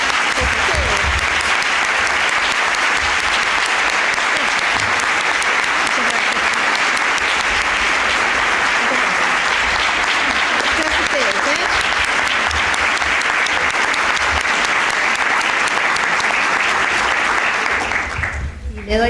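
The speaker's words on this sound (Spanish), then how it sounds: "Les voy a pedir un fuerte aplauso para Diana." A university conference audience gives a long, loud, sustained round of applause after a central lecture on international relations. The dense crowd clapping runs steadily for nearly twenty seconds, with some voices mixed in, before it thins out at the end.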